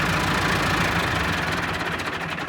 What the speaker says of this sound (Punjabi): ਆ ਪਲੰਟਰ ਪੈ ਗਿਆ ਜੀ, ਟਰੈਕਟਰ ਹੈਗਾ ਜੀ MS 385 ਤੇ ਜ਼ਫਰ ਭਾਈ ਹੈਗੇ ਨੇ ਟਰੈਕਟਰ ਦੇ ਉੱਤੇ